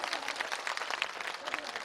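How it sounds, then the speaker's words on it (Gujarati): An audience claps loudly at a Dak Damru devotional music program in a Gujarati village, a dense continuous patter of many hands up close, with a voice mixed in underneath. "ખરેખર તાળી પાડો જોરદાર."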